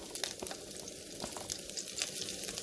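Chopped green onions fry in hot oil with a steady, dense sizzle and crackle, broken by light stirring clicks, fairly faint and without talk.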